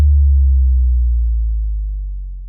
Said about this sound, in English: So I also do have a sub drop in this section.